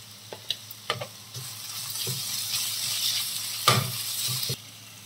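Onions, curry leaves and ginger garlic paste fry in a pan for a prawn gongura curry, a steady close sizzle with a few scraping stirs and light taps against the pan.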